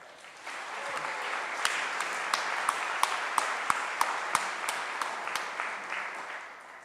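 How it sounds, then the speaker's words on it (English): A conference keynote audience breaks into sustained applause, a dense wash of clapping with a few sharp nearby claps standing out, building quickly and holding steady before tapering off. "Please, big applause to all of them."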